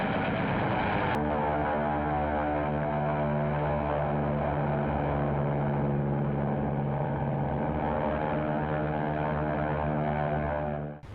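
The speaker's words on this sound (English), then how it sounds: "The first wave comes in low and fast. 4 Vals, Japanese dive bombers." Four Japanese Val dive bombers come in low and fast, a loud, sustained propeller-engine drone with a steady droning hum that holds for about eleven seconds with no voices.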